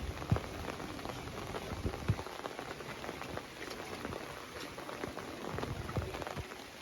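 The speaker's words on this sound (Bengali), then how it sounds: "জোরে বৃষ্টি আসতেছে আবার।" Heavy rain falls over a village under an overcast sky, giving a quiet, steady patter with distinct drops striking surfaces close by and no voices.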